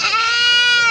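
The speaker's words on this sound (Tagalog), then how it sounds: "Malaking kambing." A large goat, one of several for sale at a livestock market in Padre Garcia, Batangas, gives a single loud, close bleat. The call is sustained and wavering and lasts about a second.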